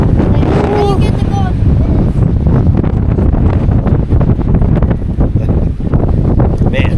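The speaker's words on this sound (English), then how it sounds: "It is windy." Strong wind, near forty miles an hour, roars across the microphone outdoors by a river in the White Mountains. It is a loud, continuous buffeting rush, and a person speaks briefly over it.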